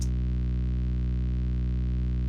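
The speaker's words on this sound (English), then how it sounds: "this basic buzz sound that I added" A basic synthesized buzz from an electronic music track, built on a sine wave: a steady, sustained droning tone, loud and unchanging throughout with no other sounds.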